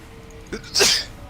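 A single close, sharp human sneeze, preceded by a brief inhale, sounds over a faint background hum.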